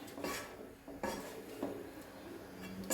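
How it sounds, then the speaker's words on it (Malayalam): A metal spoon scrapes and knocks against a pot while sago payasam with grated coconut and sugar is stirred, giving several separate clinks and scrapes at a moderate, quiet level. "നന്നായിട്ടൊന്ന് ഇളക്കാം."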